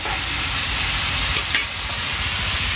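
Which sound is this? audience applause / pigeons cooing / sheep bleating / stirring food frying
stirring food frying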